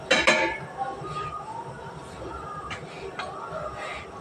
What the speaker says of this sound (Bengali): চাকু ভালো করে ধুয়ে নিই।